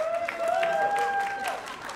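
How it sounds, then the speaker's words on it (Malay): Applause from an audience at a Malaysian awards night event, a continuous wash of clapping with a tonal whine running over it for about two seconds. "tepukan untuk kita Mr. Syam Syafiq"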